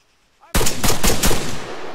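Loud, close automatic gunfire bursts out suddenly in a roleplay shooter game, as players fire through walls in rapid rhythmic volleys lasting over a second.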